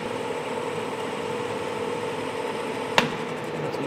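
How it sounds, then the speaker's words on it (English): Metal bar being turned down on a lathe: a steady machine hum and whir runs throughout at an even level, broken by one brief sharp click near the end. "First thing I need to do is go ahead and turn this bar down."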